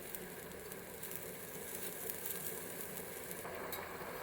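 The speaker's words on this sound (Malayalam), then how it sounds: "നോൺ സ്റ്റിക്ക് പാത്രത്തിനകത്തോട്ട് 1 പിടി തേങ്ങ ഇട്ട് ഇത് ഒന്ന് വറുത്തെടുക്കുകയാണ്" Grated coconut roasts in a non-stick pan for Kerala avial, a faint steady sizzle with soft crackle and occasional stirring scrapes, no talking.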